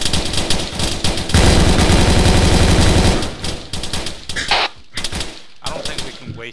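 Sustained rapid gunfire in ARMA 3 training, loud and close, a dense automatic stream for the first few seconds before breaking into scattered shots and short bursts, with voices faintly mixed in.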